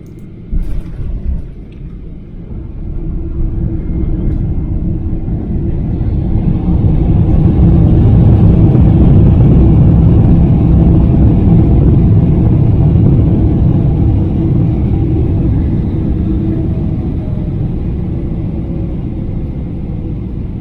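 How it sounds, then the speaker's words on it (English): An airport stairs truck rolls up to an aircraft stand at night, its engine rumbling low and swelling as it draws near, then holding a steady idle drone. "We reached our stand and the truck with the stairs on the back arrived"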